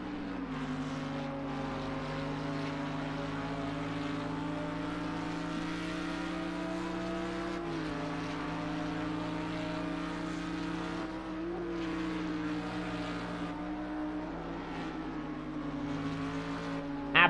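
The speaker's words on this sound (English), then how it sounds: "And that beautiful Lamborghini engine, the beautiful engine in it, purring away like a little pussycat there in that car." A Lamborghini GT3 race car engine in the Project CARS 2 racing game at Silverstone, heard on board as a steady, sustained droning hum with slight pitch shifts between gears, loud and continuous throughout.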